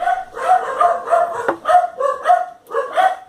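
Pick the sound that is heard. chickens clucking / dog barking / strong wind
dog barking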